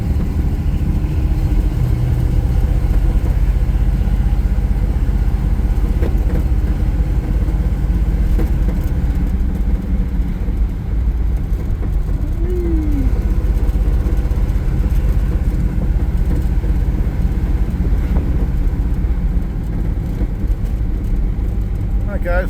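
A 1955 Chevrolet Bel Air two-door hardtop driving along, its engine producing a steady low rumble and road noise from inside the cabin throughout, loud and continuous with a voice occasionally talking over it.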